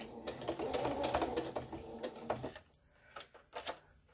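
A sewing machine stitches along the edges of a fabric journal page, running in a steady busy whir for about two and a half seconds, then stopping and leaving only a few faint clicks and handling taps.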